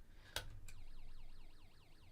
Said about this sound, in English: it makes an alarm noise